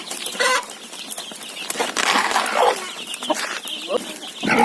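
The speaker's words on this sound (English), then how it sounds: "These are the chicks here." Chickens and chicks on a home-town poultry farm cluck and chirp steadily close by, with some crowing-like calls, and people talk over the birds.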